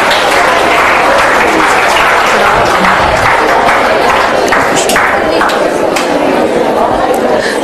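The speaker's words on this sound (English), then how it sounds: "Let's have a big round of applause for him." An audience at a spell bee competition claps loudly and continuously, a dense sustained applause filling the room with some crowd chatter mixed in.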